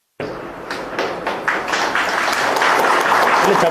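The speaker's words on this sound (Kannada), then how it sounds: "ಚಪ್ಪಾಳೆ ಬೇಡ" Applause from a crowd at a political speech by H.D. Kumaraswamy starts from silence with a few sharp individual claps and quickly swells into dense, steady clapping that keeps building in loudness.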